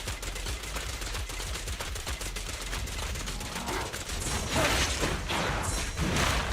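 Rapid bursts of automatic gunfire from the video game Z-Z-Z, a dense stream of sharp cracks with thumping impacts that grows louder toward the end.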